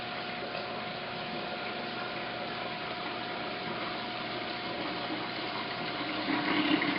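Water siphons through an aquarium Durso standpipe in a steady, rushing gush with a constant low hum, growing slightly louder and more gurgling at the end.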